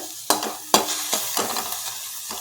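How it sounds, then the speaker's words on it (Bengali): Ginger, green chili and panch phoron stirred in a nearly dry pan make several sharp spoon scrapes and clacks over a light sizzle, close and fairly loud, with no talking. "আর আদা, কাঁচা লঙ্কা, পাঁচ ফোড়নটা আমি একটু নেড়ে নিলাম"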